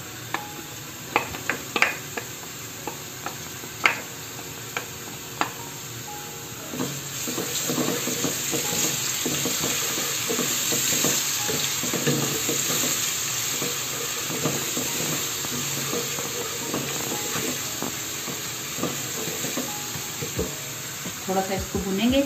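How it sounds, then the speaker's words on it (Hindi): Crushed garlic and ginger frying in a pan for black chana, a steady sizzle with scattered clicks of stirring, moderately loud and close, without speech. "अब इसमें ये लहसुन अदरक है जो क्रश किया हुआ है ये डाल देंगे।"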